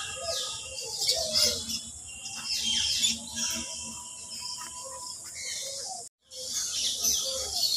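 Birds chirp and twitter steadily at the Nahar Garden in Saturia, Manikganj, where many pigeon breeds are kept, with insect-like trilling mixed in. There is a brief dropout near the end.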